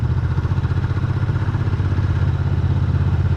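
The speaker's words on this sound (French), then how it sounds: "Alors au niveau souplesse moteur, là je suis à 2000 tours minute." A Royal Enfield Interceptor 650 motorcycle engine runs at 2000 rpm in fourth or fifth gear, a continuous throbbing hum with a regular pulse and no speech.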